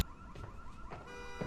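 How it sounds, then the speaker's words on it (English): Car alarm going off in a TV show, a warbling electronic tone rising and falling steadily at moderate distance, with faint background sound and no voices. "Oh, a real alarm."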